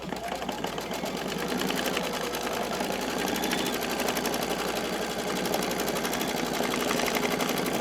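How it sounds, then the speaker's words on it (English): An embroidery machine stitches an applique around the edge of a tea towel in a steady, fast, continuous needle rattle, close and loud, running without pause and with no talking. "lower the foot, hit start, and remember, it's going to stitch around it twice"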